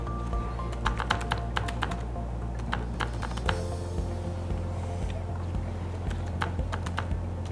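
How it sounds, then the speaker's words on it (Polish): An e-mail address is typed on a computer keyboard: rapid bursts of sharp, close key clicks in irregular clusters over a low steady hum, with brief pauses between runs. "I tutaj wpisujemy adres e-mail."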